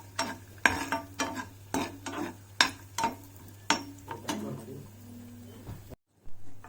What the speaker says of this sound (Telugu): ఇవి కూడా లైట్గా గోల్డెన్ కలర్లోకి వచ్చినంత వరకు వేపుకుందాం.